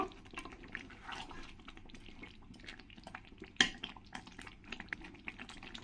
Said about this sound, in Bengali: একটু গরম মশলার গুঁড়ো দিয়ে দেবো দিয়ে ভালো করে আমি কচুর সঙ্গে মিশিয়ে নেব